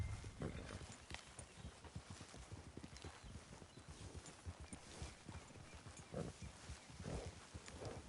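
Horse hooves clip-clopping in a steady walking rhythm through a PS4 video game, close and fairly quiet, with a few faint vocal sounds over the hoofbeats.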